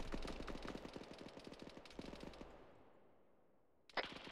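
Rapid bursts of machine gun fire in the Arma 3 military shooter, a fast rhythmic chatter for about two and a half seconds that trails off into echo and near quiet before another sharp volley erupts at the end.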